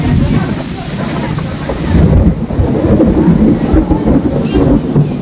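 A violent thunderstorm with heavy rain and gusting wind, a steady loud roar of rain and wind filling the whole stretch with a surge of rumbling thunder partway through.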